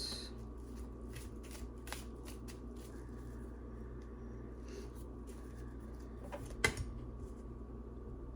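Tarot cards being shuffled by hand during a reading; soft, close riffling and scattered card flicks over a quiet room hum, with one sharper snap near the end and no speech.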